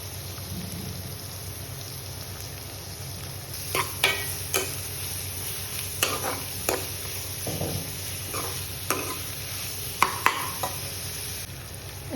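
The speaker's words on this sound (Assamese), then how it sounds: "আৰু বাকী আপোনালোকক ইয়াতে কলডিলখিনি মিলাই অলপ সময় ফ্ৰাই কৰিম" Chopped banana flower stir-fries in a pan with a low continuous sizzle, broken by intermittent scraping and clinking from a spatula stirring the pieces. No one speaks.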